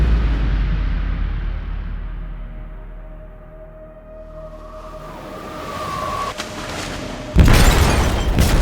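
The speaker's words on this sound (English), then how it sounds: "They detonated an explosive in the hold." An explosive goes off in a ship's hold in Detroit: Become Human, with a deep rumbling boom that fades into a low drone, then a second heavy blast bursts loud near the end.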